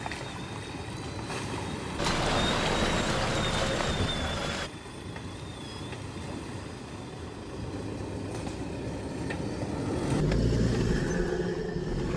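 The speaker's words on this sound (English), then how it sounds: "So I'm just in first gear, low range, and I'll just crawl it." A 4WD crawls up a steep rocky track near Coffs Harbour in first gear, low range. A low, continuous engine rumble swells louder in a couple of stretches, with no talking.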